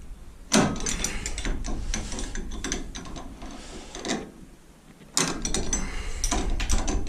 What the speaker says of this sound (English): that's the propeller shaft moving at the other end.